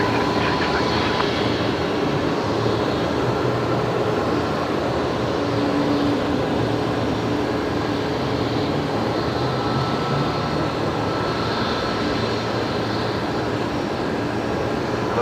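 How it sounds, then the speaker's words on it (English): A BAE 146 airliner touches down at Brisbane Airport, a loud, steady broadband roar of jet engines and rushing air filling the whole stretch without pause. "like one of the BAE 146s touching down"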